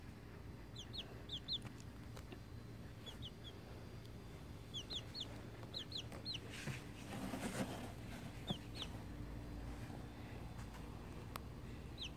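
A pet chicken clucks softly in a series of short, high calls spread across the stretch, faint against a steady low background hum, with no talking.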